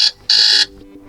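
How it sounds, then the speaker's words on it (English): Buzzer alarm tone from a Motorola Edge 50 Pro phone: two harsh electronic buzzes, a short one followed by a longer burst, clear and close with silence between. "buzzer alarm."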